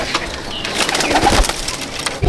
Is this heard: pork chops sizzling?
no